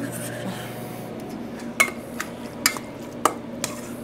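Salad being tossed with lemon juice and olive oil, heard as a few sparse, light utensil clicks and soft scrapes against a bowl over a quiet, steady room background.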